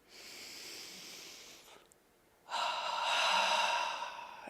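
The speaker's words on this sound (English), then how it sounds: "Take another deep breath in" Deep meditative breathing during a guided meditation: one long, soft breath drawn in, a brief pause, then a longer and fuller breath out, close to the listener with no talking.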